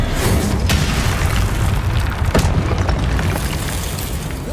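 The Confringo explosive spell goes off in Hogwarts Legacy as a loud, rumbling blast that stays thick and booming, with a sharper crack near the middle before it slowly fades.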